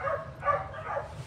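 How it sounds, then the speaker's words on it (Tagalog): Several dogs bark in short, muffled yaps, three quick barks spaced across a second, faint and somewhat distant. "Daming aso."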